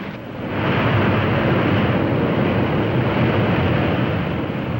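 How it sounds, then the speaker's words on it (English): Propeller airliner engines roar steadily and loudly after touchdown as the pitch of the propellers is reversed to brake the landing plane, a broad, continuous rushing din that swells within the first second and holds without a break. "you hear the engines roar soon after you're on the ground, remember that's what he's doing, reversing the props to stop the airplane"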